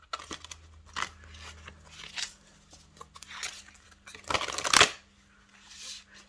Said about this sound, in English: So I'm going to shuffle 3 times.